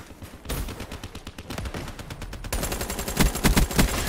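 Rapid gunfire from Call of Duty: Black Ops 3 on PS4, with dense bursts of automatic shots that grow louder and heavier in the second half and play continuously with no voice over them.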